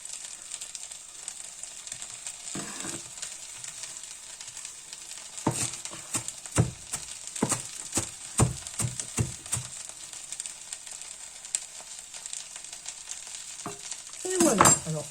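Radish-top soup ingredients sizzle steadily in a pan, joined midway by a run of sharp utensil scrapes and clinks as they are stirred, with a louder clatter near the end.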